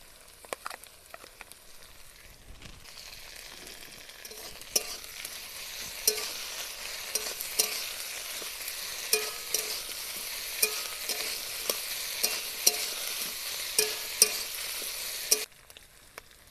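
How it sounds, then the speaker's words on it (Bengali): Ginger-garlic paste fries with browned onion and potato for a village-style fish curry, a soft sizzle that swells after a few seconds while a spatula scrapes and knocks the pan in regular strokes, then stops abruptly near the end. "এবার আমি এর মধ্যে দিয়ে দেবো আদা রসুন বাটা।"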